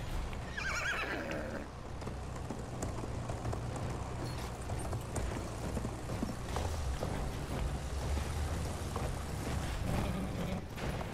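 A horse in the Battlefield 1 video game whinnies near the start, then hooves clop steadily under dense battlefield noise and rumbling engines.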